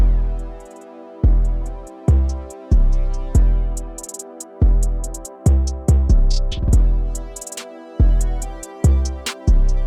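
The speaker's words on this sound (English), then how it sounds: "Right here I like to start with the hi-hat." Hip-hop beat playing in a mix session, with crisp hi-hat ticks riding over heavy, booming kick and bass hits that land in a steady, loud rhythm throughout, no voices.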